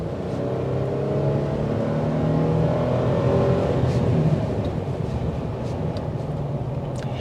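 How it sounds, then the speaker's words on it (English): A 2023 Nissan Frontier Pro-X pickup's V6 engine hums and rises steadily in pitch as it accelerates, heard from inside the cab, fairly loud and continuous with no talking. "You can hear that V6, it loudens up"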